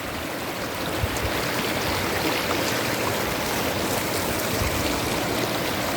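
A clear, shallow, rocky river about seven meters wide babbles past rice fields in Subang, a steady broadband rush of flowing water, close and continuous with no talk.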